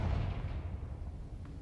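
A Confringo blasting spell explodes in Hogwarts Legacy, a loud low boom that bursts out at the start and then rumbles away, with no talk over it.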